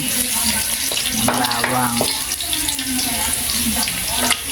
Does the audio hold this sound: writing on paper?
no